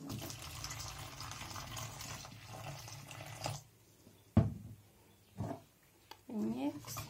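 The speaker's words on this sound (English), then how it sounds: "We add warm water." Warm water pours into a vegan zucchini flatbread mix with turmeric, a soft splashing stream over the first half, followed by a few brief clicks and a short spoken phrase.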